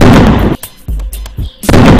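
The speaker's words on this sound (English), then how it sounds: "They tried to shoot me!" Gunshots fire in an action movie scene: several loud, sharp blasts with a dense burst at the start and end and a few separate shots between them, with no talking.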